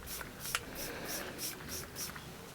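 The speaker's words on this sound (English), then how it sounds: "I'm just gonna spray like this so you can see" Kayali Vanilla Oud hair perfume spray being spritzed, a quick series of about seven soft, airy puffs in an even rhythm, close and fairly quiet.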